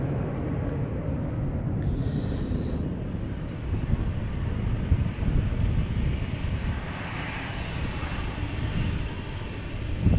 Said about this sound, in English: KLM Dreamliner flight 515 to Zanzibar. Landing up right now.